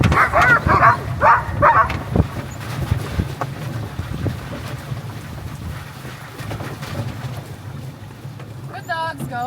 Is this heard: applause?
no